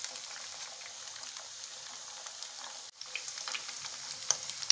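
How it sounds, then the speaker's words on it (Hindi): Suji (semolina) kachori deep frying in hot oil, a steady dense bubbling sizzle with small crackles and pops, close and continuous with a brief dip near the end. "हमें कचौड़ी को दोनों साइड से गोल्डन ब्राउन होने तक फ्राई करना है।"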